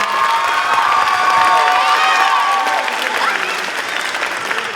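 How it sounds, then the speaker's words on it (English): Loud applause at a fifth-grade moving-on ceremony in River Rouge, where a crowd claps steadily while children whoop and cheer over it for several seconds. "So let's give them a round of applause."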